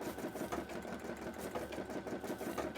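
Close by, a sewing machine hums steadily, stitching with gold bobbin thread at an even, continuous pace for the whole stretch, with no pauses and no voices.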